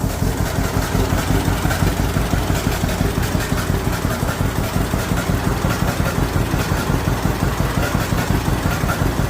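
A John Deere Model A tractor's two-cylinder engine runs at idle nearby with a steady, loud, rhythmic popping chug that continues without pause, with no talking.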